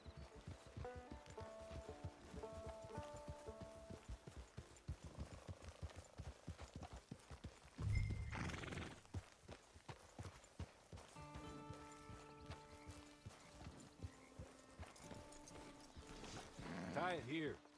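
Horse hooves clip-clopping in Red Dead Redemption 2 near a camp, a steady trotting rhythm that continues through the stretch alongside other game sounds and a brief louder burst midway.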